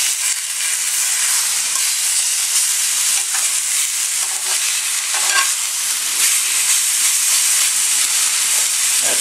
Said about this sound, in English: Okay, well, turn these steaks.